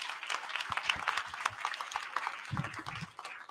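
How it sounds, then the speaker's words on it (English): An audience at a school board meeting claps for high school football players, a steady patter of many hands at moderate volume with a few murmured voices underneath. "Now we can clap for them."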